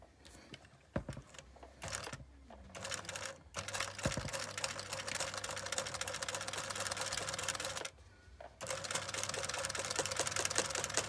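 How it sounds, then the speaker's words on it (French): Sewing machine stitching a seam on a fabric embossing cushion, a steady close mechanical whir running almost continuously with a few short pauses and restarts. "je me mets sous ma machine à coudre comme ceci"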